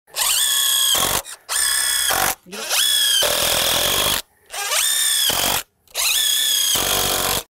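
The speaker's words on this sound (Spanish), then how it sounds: "Cuando estás trabajando con un taladro" A power drill whines in five separate bursts driving screws into wood, each about a second long, pitch rising as it drives in, with short pauses between; loud and close.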